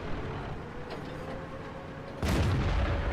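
Booming cannon shot from an E-50 tank in a tank battle game on the Tundra map, one heavy blast that rolls over a steady engine rumble.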